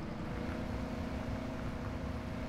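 A Big Bud tractor pulling a turn plow across a field in Farming Simulator 17 gives a continuous, even, low engine drone, steady and fairly quiet throughout.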